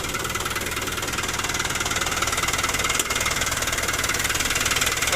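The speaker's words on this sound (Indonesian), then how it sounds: "ini posisi kunci udah mati tapi mesin masih hidup" A Toyota Dyna truck engine keeps running after its key has been switched off, a steady, loud, close mechanical rumble with a faint knocking vibration and no voices.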